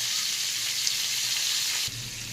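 Sliced pointed gourd hitting hot oil with dried red chillies, bay leaves and whole cumin, a steady close sizzle that briefly shifts as more goes into the pan.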